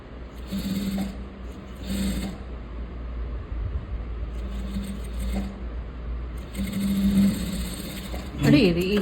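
A sewing machine stitches thread piping on a plain blouse in several short bursts of rapid whirring, separated by pauses, with someone talking in the background.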